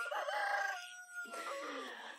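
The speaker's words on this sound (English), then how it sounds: "Every time I hear a rooster" A rooster crows loudly and close by, two drawn-out cock-a-doodle-doo calls in quick succession with no other sounds.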